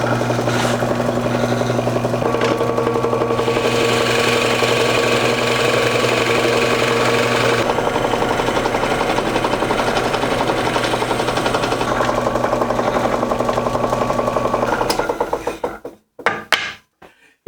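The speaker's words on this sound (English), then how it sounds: "so a little bit more drilling and the final assembly" A drill boring into wood to fit a T-nut, a continuous grinding whir held steadily at close range for about fifteen seconds, then cutting off into a few brief rattling knocks.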